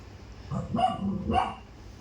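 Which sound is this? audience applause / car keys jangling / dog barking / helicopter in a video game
dog barking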